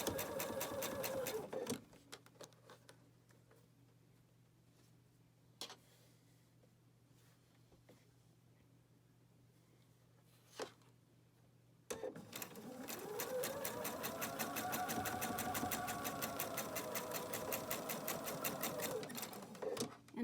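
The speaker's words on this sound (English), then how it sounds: "I'm going to start stitching right at the edge, and I'm going to stitch a 1/4 of an inch away from the edge of the fabric." A sewing machine stitches fabric a quarter inch from the edge in a short burst, falls quiet for about ten seconds with faint clicks, then runs again in a long, loud, steady stretch close by.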